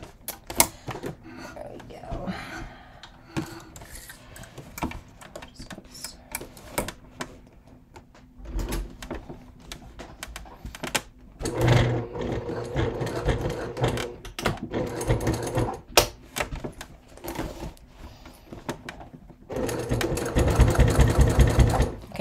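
A sewing machine stitches a thick leather crossbody bucket bag seam in intermittent runs of clattering, rhythmic stitching, growing louder and denser toward the end, with a voice talking at times.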